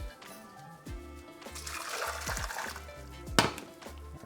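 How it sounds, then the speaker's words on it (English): Boiling water poured into a measuring cup for ramen broth, a steady splashing stream that swells and fades over a low background hum, with a brief louder clunk near the end. "take that boiling water and measure out the amount that you need for your ramen"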